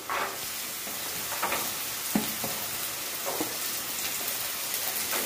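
Chayote and other vegetables sauté in a pan for a mixed vegetable chutney, a steady close sizzle with a few stirring scrapes and clinks, no talking.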